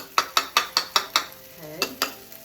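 Garlic cooks in a pan as about eight quick, evenly spaced spatula taps and scrapes ring out against the metal, close and crisp, over a light sizzle.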